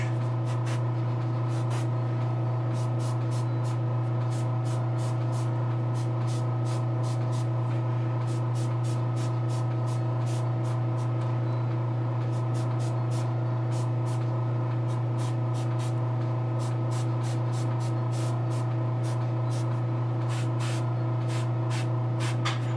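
An airbrush sprays paint onto a Giganta figure in a continuous, even hiss with a steady low hum underneath, running unbroken throughout.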